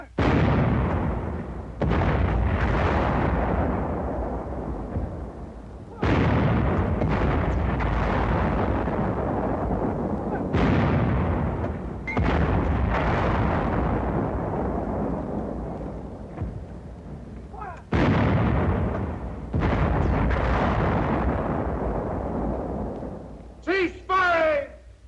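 An infantry weapon fires five heavy shots at a four-foot-thick concrete roadblock: loud, booming blasts spaced several seconds apart, each decaying into rumble, with a narrator's voice running over them.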